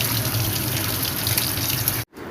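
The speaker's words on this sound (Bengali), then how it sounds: "কলটা ছাড়লাম" Tap water runs steadily and close in a home kitchen sink as cut taro and potatoes are washed, a continuous splashing rush for about two seconds that cuts off abruptly, leaving quiet.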